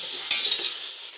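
Half a kilo of chicken with spices frying in a pan on low heat for biryani, a soft hissing sizzle with a couple of quick stirring scrapes near the start, close, brief, no speech.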